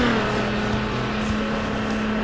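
A Subaru Impreza engine in the racing game Need for Speed Underground drones steadily at a constant pitch, with music playing alongside and no talk.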